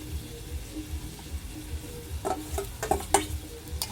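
Fried potatoes are stirred and sautéed in a pan with a soft steady sizzle, punctuated near the end by a few sharp spoon scrapes and clinks against the metal.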